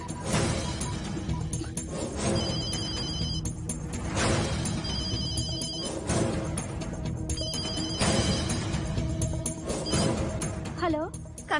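A telephone rings repeatedly in regular bursts over dramatic music and ambient noise, with people talking.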